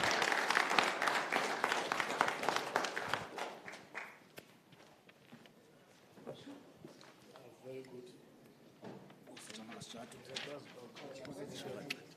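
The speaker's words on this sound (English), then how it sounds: "another round of applause to our panelists, please" Applause from an audience for panelists at an ANC energy dialogue, a loud burst of clapping that fades within a few seconds, followed by scattered sounds and voices talking.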